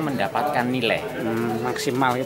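Turtle dove cooing at a bird singing contest, repeated soft coos heard beneath someone talking nearby over a loudspeaker.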